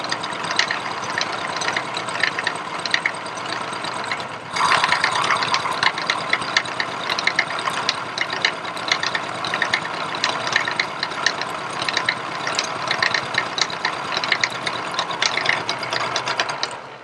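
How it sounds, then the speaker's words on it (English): A milling machine cuts metal for a vice stop at slowed spindle speed, a steady close mechanical whir with a fine rattling chatter running throughout and no talk. "Slow the RPM down so these chips aren't flying everywhere."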